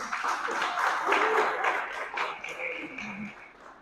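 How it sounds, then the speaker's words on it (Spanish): A church congregation claps at a service, a scattered, uneven burst of applause. Voices talk and call out over it, and the clapping thins toward the end. "vaya, no le van a dar un aplauso"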